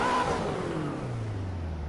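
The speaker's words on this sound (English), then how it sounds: "it'll calibrate and it'll rev the engine here" A Ferrari engine in Assetto Corsa revs up and then winds down, a single loud rising roar that falls away into a fading, descending tone.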